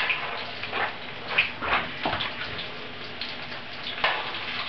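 Green tomatoes frying in a pan, a soft, steady sizzle with faint crackles and a few brief pops, fairly quiet and with no talk.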